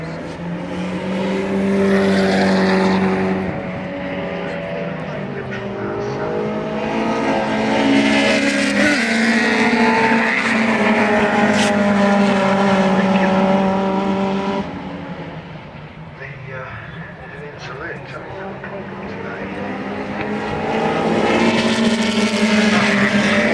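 Race cars at a circuit, among them a Mercedes running as number 8, roar past with loud, rising and falling engine notes and gear changes that swell and fade over about twenty seconds.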